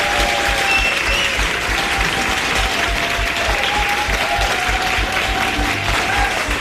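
An audience at a Las Palmas stage event breaks into sustained, dense applause, steady and full throughout with a faint crowd murmur beneath.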